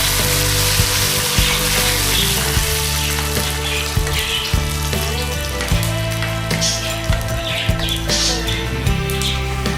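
A sizzling tempering of mustard seeds, cumin, dried red chillies and curry leaves is poured into boiled lentil curry with drumstick leaves, then stirred. A loud hiss continues with clinking stirring taps throughout.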